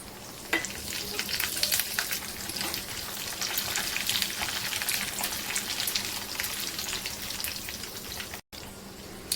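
Mustard seeds, chilli and curry leaves crackling in hot oil for a coconut chutney tempering, a loud dense close sizzle with popping spatters, cutting off abruptly near the end.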